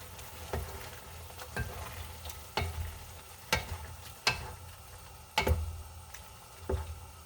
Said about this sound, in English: So I'm just going to go ahead and mix this.